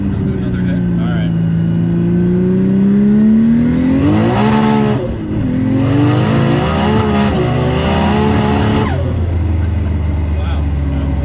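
A twin turbo Nissan 370Z accelerating hard, its engine note climbing steadily through the revs, dipping briefly at a shift and rising again, loud and close from inside the car.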